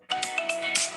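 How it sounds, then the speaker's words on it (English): A phone ringtone plays: a brief, loud, bright electronic melody of a few stepped tones lasting about a second, with no talk over it. "You guys like my ringtone?"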